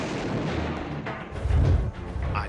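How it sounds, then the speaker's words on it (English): Heavy artillery fire from large guns such as a 155mm howitzer, a dense roaring blast with deep low rumble swelling midway through and continuing loudly, with no voices. "That's what heavy artillery is all about."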